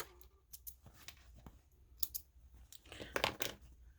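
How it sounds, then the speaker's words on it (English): Scissors trim loose threads from a zipper slip pocket on a sewing project, a run of quick crisp snips near the mic, clustering more densely toward the end. "Trim your threads again."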